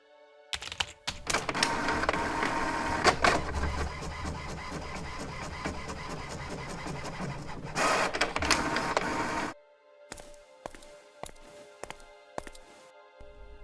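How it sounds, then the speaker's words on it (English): A card printer prints a picture onto a card: a loud, steady mechanical whir of roller feed and print-head rattle lasting about nine seconds, then a run of shorter clicks and clacks as the card is ejected. "The card is inside the printer, ready to go"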